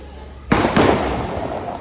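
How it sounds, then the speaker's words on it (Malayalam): Firecrackers burst suddenly at a fun zone, one sharp loud bang followed by a dense crackling spray of pops that fades over a second or so, close by. "ഇവിടെ പടക്കം പൊട്ടിക്കുന്നുണ്ട്"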